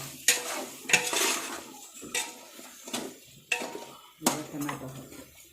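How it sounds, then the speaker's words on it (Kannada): Mutton biryani masala with turmeric is stirred in a pot, with several sharp scraping strokes of a spoon against the metal spaced over a few seconds, close and fairly loud, over a faint background sizzle. "ಚೆನ್ನಾಗಿ ಮಿಕ್ಸ್ ಮಾಡ್ಕೊಳ್ಳಿ. ತಳ ತಾಗಕ್ಕೆ ಬಿಡಬೇಡಿ."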